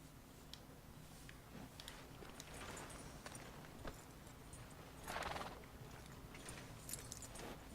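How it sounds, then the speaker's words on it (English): Horse hooves clip-clopping and a horse neighing in the video game Red Dead Redemption 2, quiet steady hoof steps with a louder whinny midway, no talk. "Are you gonna mount that new horse of yours or not?"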